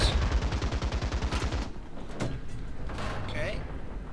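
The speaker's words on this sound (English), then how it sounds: "let's just lay on the machine guns" Tank machine guns rattle in rapid sustained bursts in the War Thunder video game, a fast steady rhythm that fades into rumbling battle noise while a player talks over it.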